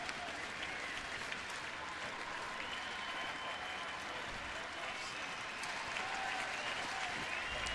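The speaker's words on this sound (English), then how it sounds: "This crowd has seen a good ball game today. Comes to life again to support Justin Masterson" Baseball stadium crowd at a day-night doubleheader cheers and applauds for the pitcher, a broad, sustained roar of claps and shouts heard from a distance with little variation.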